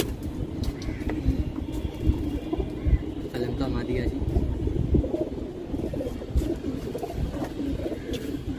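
Pigeons at a Bengali pigeon collection coo softly and continuously beneath steady background noise, with people talking nearby.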